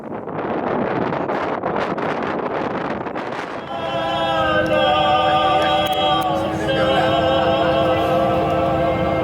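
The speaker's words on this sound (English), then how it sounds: "This is our first taste of the merciless wind out here." Strong outdoor wind buffeting the microphone in loud, continuous roaring gusts, joined midway by a steady tonal drone, likely a passing vehicle or engine.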